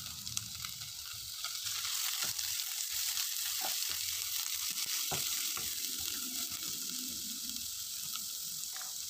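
Carrots and mixed vegetables fry in a pan with a steady, close sizzle and hiss, broken by a few sharp stirring clicks from a utensil, with no talking.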